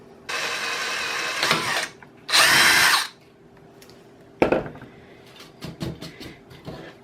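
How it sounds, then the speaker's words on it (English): Power drill fitted with a large bit boring a hole through wood, two loud whirring bursts of about a second and a half each, followed by lighter rattling taps and handling noise, close by. "I've got a bigger drill bit so that I can make a nice big hole to feed that screw through."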